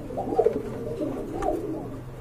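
Running pigeons in a breeding loft coo in two soft, throaty bursts, the first near 0.4 seconds and the second near 1.5 seconds, close and fairly quiet over faint background noise.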